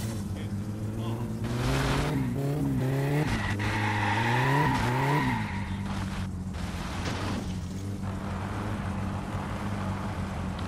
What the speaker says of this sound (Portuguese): vou fazer drift aqui que eu desabilitei tudo